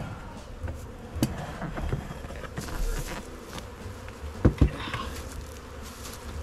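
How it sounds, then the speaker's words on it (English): Honeybees buzz around an open hive during an early-season swarm, a steady low droning hum throughout with a few soft knocks and thumps from the hive near the end. "there are bees all over the place"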